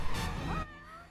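A cartoonish cat meows loudly and close up in the video game Gravity Rush Remastered: one drawn-out, rising meow that cuts off abruptly, followed by quieter game ambience.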